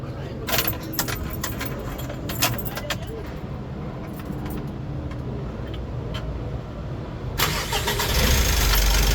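A Mitsubishi L300 Euro4 van with the 4N14 diesel engine, under a check-engine fault, cranks and catches near its end after clicks and key jangles, with a steady idle hum underneath.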